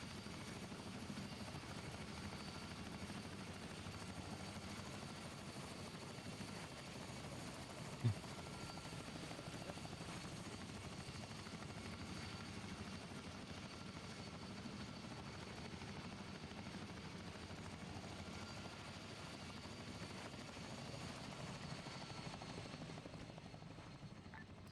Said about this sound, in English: That landing was so smooth, the helicopter didn't even know it was landed yet.